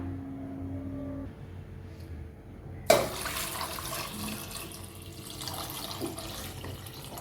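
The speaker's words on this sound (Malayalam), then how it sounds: "അപ്പോൾ ഇത് നിറച്ച് വെള്ളം ഒഴിച്ചു കൊടുക്കാം." Water pours into a pot over cut tapioca, a steady gushing stream that starts suddenly partway through after a quieter lead-in and runs on at close range.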